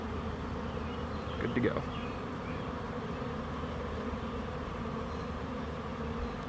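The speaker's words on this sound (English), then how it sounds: "So here I just accidentally pinched a bee on my arm." Honeybees from a swarm buzz steadily around a backyard swarm trap, a continuous close drone with a brief louder pass near the microphone; a voice speaks briefly.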